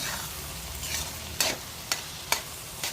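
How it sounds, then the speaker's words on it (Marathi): Onion stirring and frying in a pan for a shrimp curry gives a steady soft sizzle with several sharp scraping strokes of the spoon against the pan at irregular intervals. "आता आपण झाकण ठेवून कांदा शिजवून घेऊया"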